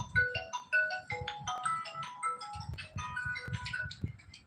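A melodic phone ringtone chimes in quick, bright electronic notes over a faint beat, playing continuously at moderate volume.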